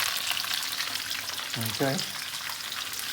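Onions frying in a pan for an Italian-style chicken curry, a continuous close crackling sizzle, with a brief spoken word partway through.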